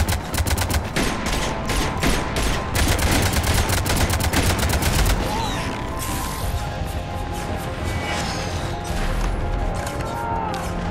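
Rapid, heavy bursts of cannon fire in the video game Mass Effect 3 boom and crack continuously, loud and close, giving way to a dense clattering barrage.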